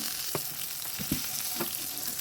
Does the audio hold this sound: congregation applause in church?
no